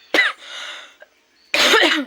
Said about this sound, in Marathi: रातभर नाही बोललं की खोकला लागतोय, बोललं की खोकला लागतोय